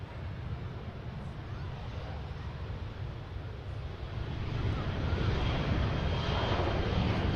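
A Ryanair airliner takes off at Manchester Airport, its engines roaring as a broad, distant rumble that swells louder toward the end.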